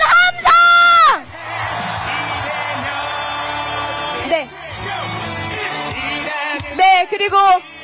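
A crowd at a political rally in Ulsan cheers loudly, with bursts of shouting at the start and end around a long stretch of amplified music and background crowd noise.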